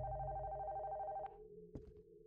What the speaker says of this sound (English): that phone won't stop until I go and pick it up